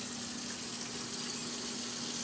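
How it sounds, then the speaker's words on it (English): Water from a tap runs steadily into a basin at a bedside, a continuous soft gushing hiss with an even level throughout and no voices. "I'm gonna turn on my water."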